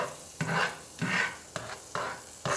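Butter in a hot pan for pancake art gives off soft sizzling with rhythmic stirring or scraping strokes, about five quiet, close bursts in quick succession.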